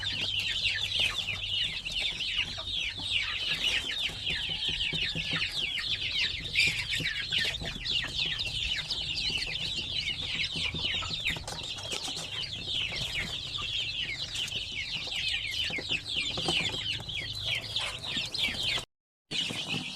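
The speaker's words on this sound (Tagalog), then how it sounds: "So dito rin sa kabila, medyo marami rin dito ng mga sisiw." A crowd of chicks on a poultry farm peeps continuously in dense high chirps, with soft clucking underneath, close and steady throughout the scene.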